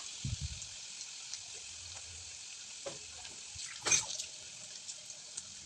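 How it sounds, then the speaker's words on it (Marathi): Crushed garlic frying in oil with cumin and mustard seeds: a faint, steady hissing sizzle with a couple of soft utensil knocks and a brief louder clatter, no voices. "लसूण पण छान तळून घ्यायचा आहे"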